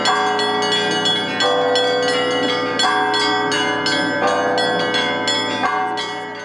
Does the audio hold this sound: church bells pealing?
yes